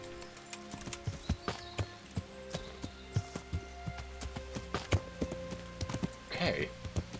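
Horse hooves clip-clop in a steady walking rhythm in the video game Kingdom Come: Deliverance, sharp distinct hoofbeats repeating over a low ambient bed, with a brief snort or whinny near the end.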